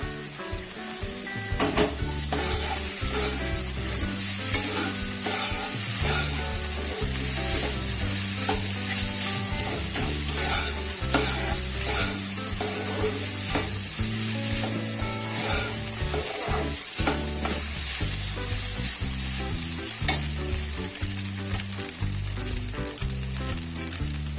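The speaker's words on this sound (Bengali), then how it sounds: "তারপরে আমি ভাতটাকে ঢেলে দেবো।" Cooked rice for masala pulao tumbles into a hot pan and is stirred, a continuous loud sizzle carrying repeated scraping and knocking of the spoon against the pan, with no talking.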